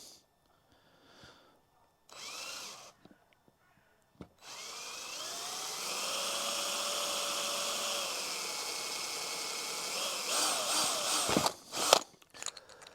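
A 3.5mm drill bit boring a hole through a small plug, a steady whining drone held for several seconds after a brief earlier burst, ending in a few sharp clatters.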